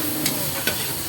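Onion sizzles in melted butter in a hot pan, a brief steady fry with two quick stirring scrapes, close and without talk.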